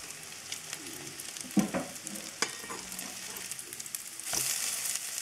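Food fries in a pan on a home stove, a steady soft sizzle with occasional stirring clicks and scrapes, fairly quiet and with no speech.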